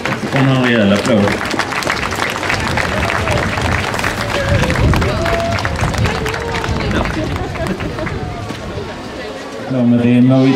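An outdoor crowd in a city park claps and murmurs during a Swedish National Day celebration, a busy wash of applause with voices through it, and someone speaks over it at the start and end.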